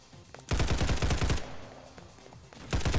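Sniper gunshots in a Roblox shooter game: a rapid burst of loud, close gunfire cracks, a quieter pause, then another burst of shots starting at the end.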